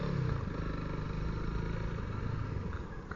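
A Honda CRF300L dual sport motorcycle rides over rocks in the Arizona desert, its engine running steady and fairly close, with scattered clattering over the low rumble.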